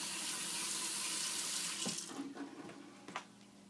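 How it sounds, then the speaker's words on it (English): Cold water runs from a tap into a sink in a steady, loud rush that cuts off after a couple of seconds, leaving a few faint clunks and drips. "I'm going to start by turning the cold water back on."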